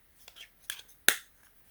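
Bifold kickstand on a protective case for a Google Pixel 4a snapping into its locked position, a couple of faint plastic clicks followed by one sharp, close click, alone in a quiet room.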